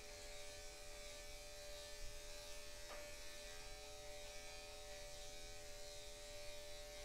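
Electric dog grooming clippers fitted with a guard comb buzz steadily and alone at close range, a continuous even drone with a faint click near the middle, used for a short summer cut on a long-ungroomed dog.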